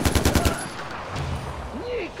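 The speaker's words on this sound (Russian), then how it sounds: "Эй, кто стрелял?" Gunfire in the video game Far Cry 4: a fast burst of close automatic shots at the start, then quieter ambient noise and faint game sounds.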